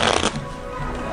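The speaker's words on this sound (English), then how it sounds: "Just an overhand shuffle. Just a normal, everyday kind of shuffle." Overhand shuffle of a deck of playing cards, a quick close riffle of card flutter at the start followed by softer handling.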